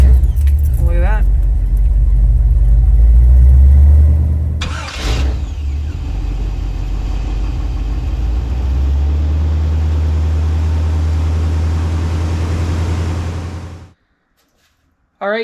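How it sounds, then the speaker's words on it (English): A Dodge Mega Cab truck engine starts with a loud crank and settles into a steady, close idle that runs for several seconds before cutting off abruptly, with a brief noise just after. "fire up the truck and get it circulating and see if it works"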